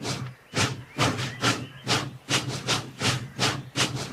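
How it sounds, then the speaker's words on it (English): A steam locomotive puffs away in a steady, rhythmic series of sharp hissing chuffs, roughly a dozen evenly spaced bursts coming close and clear with no voices over them. "James puffed away as quickly and quietly as he could."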